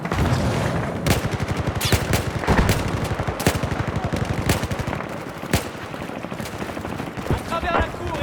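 Rapid automatic gunfire from the Battlefield 4 campaign rattles on continuously, punctuated by sharper single shots and booms, loud and close over a dense battle backdrop.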